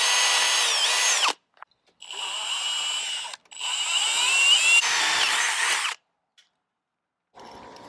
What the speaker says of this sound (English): Now we're going to start out with our smallest drill bit to get it started